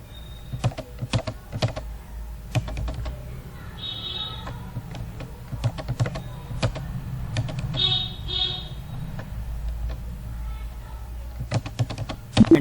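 Someone types on a computer keyboard while working in Tally accounting software, pressing Enter, with sharp, close key clicks arriving in irregular bursts and short pauses against a quiet room hum.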